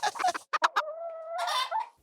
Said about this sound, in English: Happy chicken, tasty eggs.